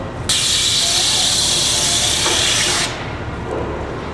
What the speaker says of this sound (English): I'll get a wider spray